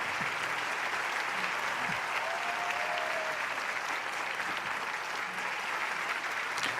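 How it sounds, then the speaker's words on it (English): Steady, dense applause from a large assembly crowd welcoming a presenter, loud and even throughout with no speech over it. "warm round of applause"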